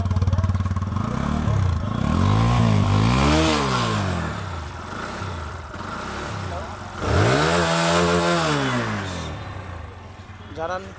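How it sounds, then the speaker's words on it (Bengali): A TVS Apache RTR 160 4V ABS BS6 motorcycle engine runs close by and loud, idling with a steady thrum and rising in several throttle revs that swell and fall back, while someone talks over it. "দারুণ সাউন্ড হয়েছে বাইকে"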